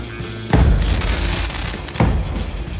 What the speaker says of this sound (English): the cakes are a collaboration of different classic fireworks that go off at the same time